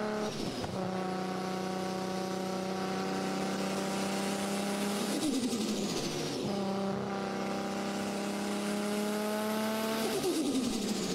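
A turbocharged car engine revs hard in two long rising pulls, its whining turbo tone climbing and falling away between them, loud and close with no talking.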